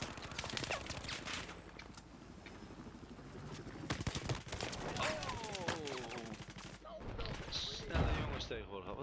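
Gunfire in Battlefield 4 multiplayer: repeated rapid shot bursts and bangs run throughout, mixed with game effects, while players chat over the action.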